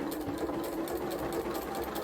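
A sewing machine running slowly and steadily while stitching stretch fabric, its motor hum and needle chatter continuous and close throughout.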